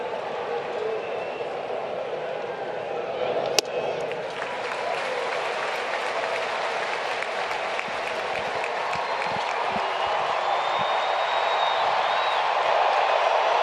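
A large baseball stadium crowd roars steadily through a Phillies vs Braves game, with a broad wash of cheering and applause. One sharp crack cuts through near the start, and the noise swells slightly toward the end.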